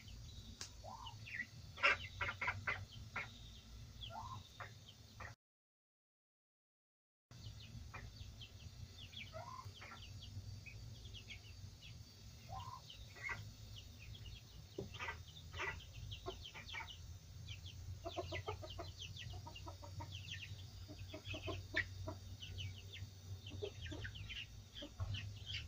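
A mother hen clucks among newly hatched baby chicks, with repeated soft clucks and scattered high peeps and chirps throughout over a steady low background hum, briefly cut to silence early on.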